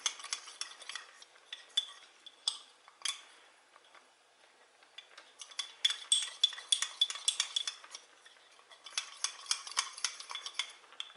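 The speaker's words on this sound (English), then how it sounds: "I'm going to mix it up really good. Make sure there's no lumps in there." Cherry sauce mixture is stirred in a pot, with steady scraping and clinking of the utensil against the sides. The strokes run in quick rhythmic bursts, pause briefly, then resume more vigorously.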